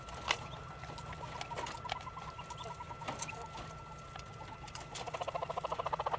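Chickens eating black soldier fly grubs from a bowl, giving soft scattered clucks and calls over busy pecking and scratching patter, fairly faint and close, with a quick rhythmic tapping burst near the end.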